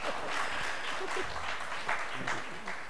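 An audience at an inspiration festival event in New Delhi applauds, a dense steady patter of clapping lasting a few seconds with some voices mixed in.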